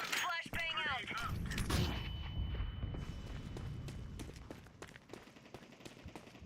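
Grenade blasts in Counter-Strike 2 competitive play, an incendiary and a flashbang, heard as a loud burst with a rumbling boom followed by crackling and scattered sharp pops over a sustained roar. A brief voice line plays near the start.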